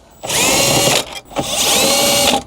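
A power tool whirs in two sustained bursts, briefly pausing between them, while removing two 10mm bolts inside a 2018-2021 Lexus NX; loud and close, with no talk.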